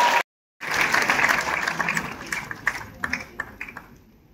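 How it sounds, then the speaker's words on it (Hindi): An audience at a Hindi poetry gathering (kavi sammelan) at IIT Roorkee breaks into applause, a dense wash of claps that starts after a brief silence, swells loudly, then thins into scattered individual claps. "और इसी बात पर दे दो ताली"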